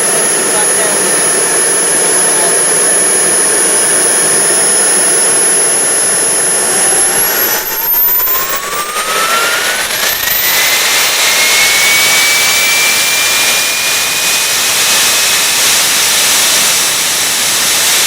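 Model jet turbine engine running loud and close with a high whine that sweeps upward and settles as the throttle is worked, over a constant roaring hiss.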